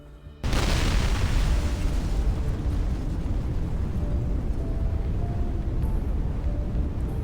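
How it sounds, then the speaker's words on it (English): Explosion blast from the video game Love and Deepspace, a sudden loud boom that swells into a sustained heavy rumble and roar lasting several seconds, with no talking. "The blast impact hits us, which pushes us to the side."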